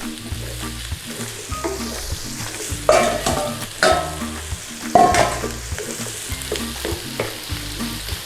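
Large-cubed onions fry in a pan, a steady close sizzle broken by a few louder bursts of stirring and scraping, with no voices.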